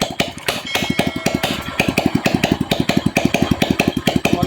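A Suzuki motorcycle engine runs without its battery fitted, putting out a fast, even idle chug of sharp repeated pulses, close and fairly loud throughout.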